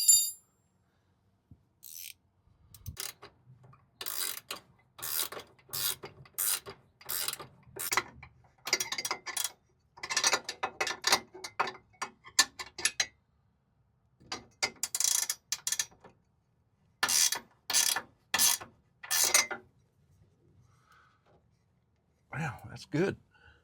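Ratchet wrench tightening the locking nut on an exterior electrical plug fitted to a van wall, heard as bursts of rapid close clicks separated by short pauses.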